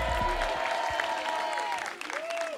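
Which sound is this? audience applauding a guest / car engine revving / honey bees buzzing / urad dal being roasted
audience applauding a guest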